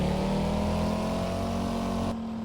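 Car engine in Minecraft as the car drives off, a steady droning hum with sustained tones, loud and close, cutting off near the end.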